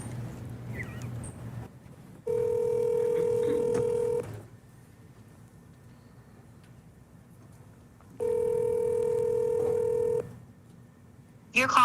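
A telephone call rings out twice, each ring a steady two-second electronic tone with a long silent gap between, close and clear, and a brief voice is heard at the start and end.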